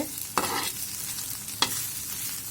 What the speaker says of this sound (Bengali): ভেজে নিলাম পাঁচ মিনিট অল্প আছে